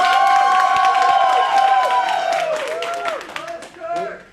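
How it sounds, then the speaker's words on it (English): A convention panel audience at Florida Supercon 2017 claps and cheers in a loud burst of applause with whooping voices. It thins out and fades toward the end. "let's hear actually from a round of applause so we get an idea"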